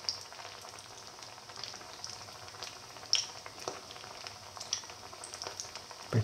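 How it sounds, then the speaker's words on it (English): Chicken, potato, fenugreek and corn flour patties frying in a pan give a soft, quiet sizzle with faint crackles and a few light pops and taps scattered throughout. "Turn it over and let it fry"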